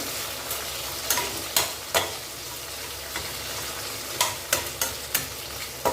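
Cluster beans sautéing in a pan for a tomato-free gravy, a continuous oily sizzle broken by repeated sharp scraping stirs of a spatula, close and alone without talk.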